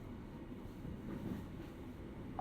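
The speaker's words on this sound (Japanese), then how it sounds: "電車が参ります。 まもなく。" A train arrives at a station in a video game, a steady low rumbling roll that holds at a quiet level throughout without a clear break.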